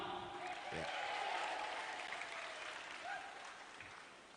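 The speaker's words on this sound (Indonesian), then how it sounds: "Tepuk tangan buat mereka." Applause from an audience at a national Christmas celebration, a steady wash of clapping that swells and then tapers off over several seconds while voices murmur underneath.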